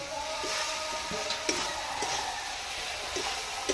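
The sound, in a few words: potatoes added to hot spiced oil, sizzling while stirred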